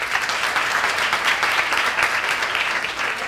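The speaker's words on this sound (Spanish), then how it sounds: "Un fuerte aplauso, por favor." A lecture audience applauds steadily after a professor is introduced to speak on the origin and evolution of sex, a dense, even wash of many hands clapping at once, loud and unbroken throughout.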